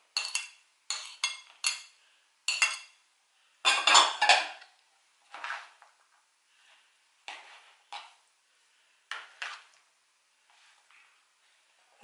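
A spoon stirs fricassé filling of tuna, cheese and olives in a bowl, making bursts of close metallic clinks and scrapes separated by short quiet gaps. The bursts fade to softer taps toward the end, with no talking.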